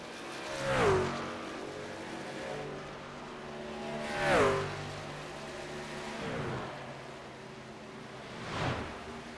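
Race trucks in a truck series event at Homestead, one easing off to save fuel while heading into turn 1; engines whine past several times, each pass swelling then dropping in pitch, heard from a moderate distance.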